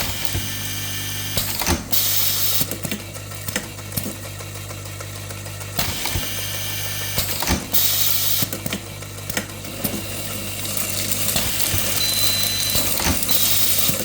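An automatic screwdriver with an empty screw feeder hopper runs with continuous mechanical whirring and clattering beneath a sustained electronic beeping tone.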